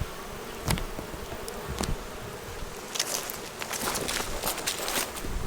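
Bees swarm and buzz around an opened hive, a dense steady drone close by with individual insects zipping past the microphone and a few soft rustles and steps.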